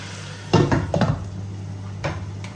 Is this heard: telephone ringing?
no